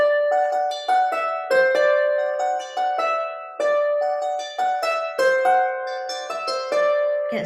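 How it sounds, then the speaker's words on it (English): Slip jig tune in D Mixolydian played on a melodic instrument in a session-style setting, a steady lilting run of bright, clear notes with a recurring phrase, close and even in loudness with no talking. "There's a slip jig there."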